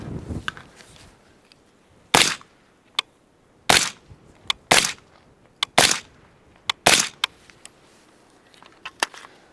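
A rifle with a 10.5 barrel and SiCo Velos suppressor fires five shots, sharp suppressed cracks spaced a second or so apart, interspersed with smaller clicks and metallic handling noises.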